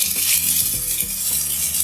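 Ground raw masala paste poured into a hot pan of softened tomatoes sizzles and fries steadily, with soft stirring scrapes close by and no talking.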